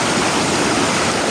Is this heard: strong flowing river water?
yes